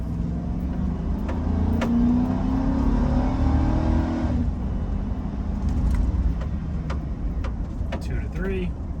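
A Chevrolet Tahoe with a 4L60E automatic transmission pulls at wide-open throttle, the engine rising steadily before the 1-2 upshift drops its pitch midway, with someone speaking over the engine.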